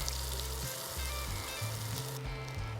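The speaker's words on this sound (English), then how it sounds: "I'm gonna put the buttered part down first on this griddle" A buttered sandwich sizzles steadily on an induction griddle, a continuous bright frying hiss with soft low thumps as it is pressed down, no one talking.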